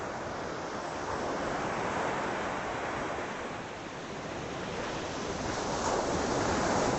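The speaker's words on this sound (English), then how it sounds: "Who gets tired of watching the ocean?" Ocean waves washing onto a beach on the North Carolina Outer Banks, a continuous loud roar of surf with wind buffeting the microphone throughout.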